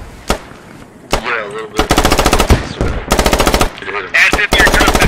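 Gunfire from a Squad match, with rapid bursts of automatic rifle or machine-gun fire up close, alternating with sharp single cracks and brief pauses, loud and dominant with no talk over it.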